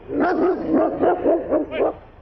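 A dog at a house barks repeatedly in short, loud, agitated bursts with some whimpering yips, close by and alone.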